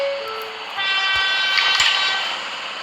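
A train pulls away from a station in a railway video game, with a steady rolling rumble, a brief horn-like tone at the start and a rising hum of the engine as it gathers speed.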